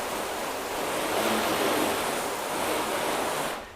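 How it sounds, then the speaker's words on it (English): A hose sprays rinse water over coated car panels to wash off soap, making a continuous broad rushing hiss that swells slightly in the middle and cuts off abruptly at the end. "I'm going to get these all rinsed down, make sure there's no soap residue left."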